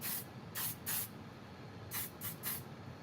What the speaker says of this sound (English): We're gonna just hit it with some spray and let this dry.